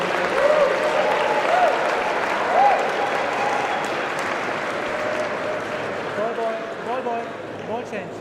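Crowd at a Challenger tennis tournament in Calgary applauding in a steady wash of clapping, with a commentator talking over it and the applause easing slightly toward the end.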